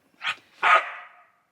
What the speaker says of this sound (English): Maybe not when Fitz is barking